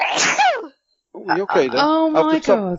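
A single loud, sharp sneeze bursts out up close, followed by a short pause and then a person talking.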